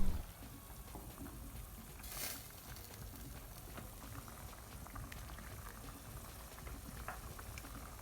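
Pork meat simmers in boiling broth in a pot, giving a steady, soft bubbling and gurgling that runs throughout at low volume, with no one speaking.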